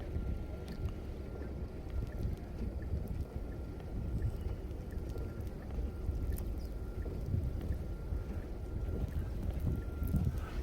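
Snowstorm wind roars in a steady, dense rumble with gusty low buffeting against the microphone, continuous and close throughout, with no voices.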